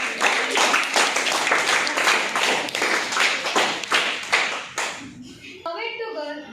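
Teachers Day celebration crowd applauding a teacher, with dense rapid clapping from many hands that fades after about five seconds as music begins.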